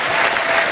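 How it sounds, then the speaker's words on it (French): A burst of audience applause in a TV quiz show studio, dense and loud throughout the short moment. "qu'on peut encore applaudir."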